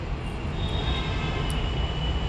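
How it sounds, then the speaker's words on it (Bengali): A metro train passes by near a temple gate, a steady broadband rumble and rush with a faint high whine, loud and continuous without a break. "মেট্রো যাচ্ছে ওই পাশ দিয়ে"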